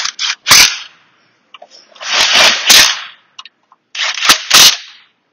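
A pneumatic impact gun works fasteners on a CVT during a rebuild, firing short hammering bursts with hissing air between them, three loud clusters of rattling blows.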